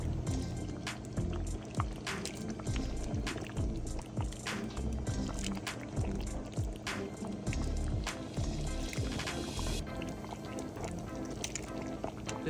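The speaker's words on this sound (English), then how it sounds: "And at the rapid boil, here you go." Vegan Zuppa Toscana soup bubbles at a rapid boil in a pot, giving a steady, close, continuous bubbling and popping with faint background noise.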